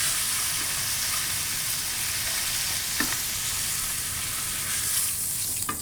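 Steak sears in a hot pan with a loud, continuous, dense sizzle and crackle, heard up close and alone, with a couple of faint pops and no talk.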